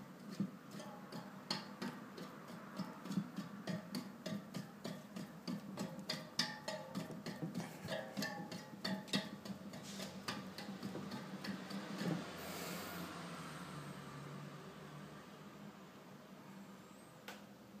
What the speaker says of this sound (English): And this is the sound of the SON Delux hub in the front wheel.